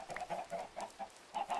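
Chickens on a Minecraft farm clucking in a quick series of soft, close calls, with no other sound.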